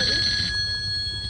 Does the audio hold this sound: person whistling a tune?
no